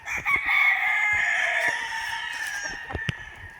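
Pure Macklin Hatch gamefowl roosters at a game farm crow in a loud, drawn-out call lasting a few seconds, with overlapping crowing and clucking from other birds in the pen around it.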